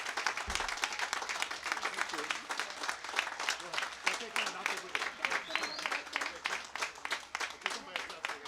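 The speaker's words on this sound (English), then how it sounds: "Let's give him a big round of applause." An audience at a Veterans Day event applauds a veteran with sustained, even clapping that carries on steadily throughout, with a few scattered voices mixed in.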